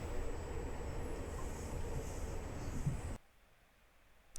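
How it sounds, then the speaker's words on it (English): Steady rumble of a passenger train in motion, a dense, even roar of wheels and carriage noise that runs for about three seconds and then drops away abruptly into near quiet. "So I absolutely love train travel."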